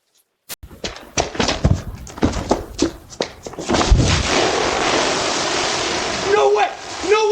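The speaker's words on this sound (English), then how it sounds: "This is a paint explosion from hell!" A paint bomb bursting in a package at a doorstep, a sudden burst followed by heavy splashing and spraying of paint, with loud, close agitated voices over and after it.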